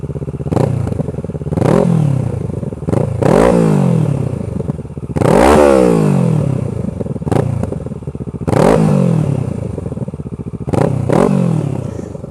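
A 2013 Kawasaki ER-6f Ninja 650R parallel-twin motorcycle revs repeatedly from idle, each blip rising sharply and falling back, loud and close with a crackly exhaust and no talking.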